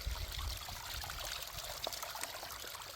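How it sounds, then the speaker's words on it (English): Mountain spring water trickles and pours steadily in a continuous close stream, a soft broadband wash with a low rumble underneath and no voices. "there's just nothing quite like a mountain spring"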